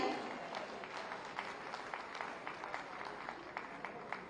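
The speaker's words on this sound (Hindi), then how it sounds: "आप सब जोरदार तालियां इस बालक के लिए बजाएं" An audience claps at an Uttar Pradesh Day state event as a first prize goes to a boy from Lucknow for light vocal music. The applause is faint and distant, a soft steady patter throughout.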